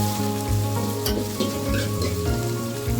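Onions stirred as they fry in a pan for a fish curry, a dense close sizzle with spatula scrapes and a sharp clink near the middle, no talking.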